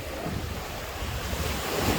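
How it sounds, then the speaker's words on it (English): Irish Sea waves wash against the seafront steps of Blackpool's North Pier area, a continuous loud surf mixed with gusting wind rumbling on the microphone. "Irish sea just stroking these steps here, look"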